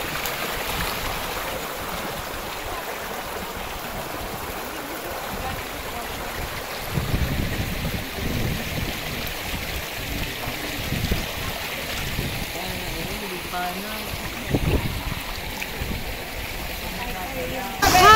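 A small stream on an island in Mindoro, Philippines flows and trickles steadily, with broadband water noise throughout and occasional splashes and rustles nearby.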